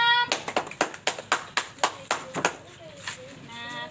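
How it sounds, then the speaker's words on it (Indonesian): Fifth-grade classmates clap for a presenter in a lesson on the water cycle, about ten fairly even, separate claps in a loose rhythm, close by in a classroom, tapering as a voice begins to speak near the end. "Tepuk tangannya teman-teman."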